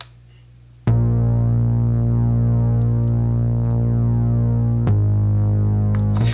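Simple synth sawtooth bass from a Kontakt sample library, holding a sustained, buzzy low note with rich harmonics that changes pitch once near the end. It plays loud and alone after a short quiet lead-in.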